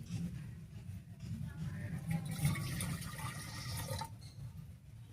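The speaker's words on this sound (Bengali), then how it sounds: "এবার এর মধ্যে একটুখানি জল দেব।" A little water poured into a pressure cooker sitting on a lit stove while an amra pickle is being made: a faint, steady splashing trickle over a low background hum, lasting several seconds.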